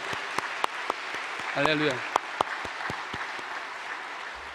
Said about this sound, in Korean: 우리 큰 박수 한번 하겠습니다